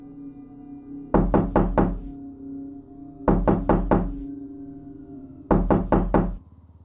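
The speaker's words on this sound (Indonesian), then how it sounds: "Terdengar suara ketukan lagi." Three sharp bursts of knocking, each a quick series of four or five hard raps on a door, separated by pauses over a low droning horror-style background in an animated ghost story.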